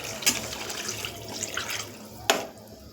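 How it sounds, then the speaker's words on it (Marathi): Water is poured into a pot of spiced masala khichdi, a brief, steady splashing stream with a couple of sharper splashes, close and fairly quiet. "मसाले व्यवस्थित मिक्स झाल्यानंतर याच्यात आपल्याला टाकायचं आहे पाणी"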